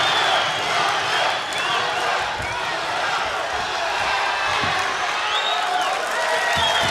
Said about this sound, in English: Wow, even split on the crowd going wild here.